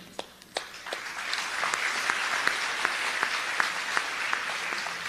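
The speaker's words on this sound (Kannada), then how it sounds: "ಅದಕ್ಕೆಲ್ಲ ನೀವು ಚಪ್ಪಾಳೆ ಹೊಡಿಬೇಕದ್ದು, ಮುಂದೆ ಹೇಳೋ ಮಾತಿಗೆ ಚಪ್ಪಾಳೆ ಹೊಡಿಬೇಕು" Applause from an audience, a steady wash of many hands clapping with a few sharper claps standing out, moderately distant.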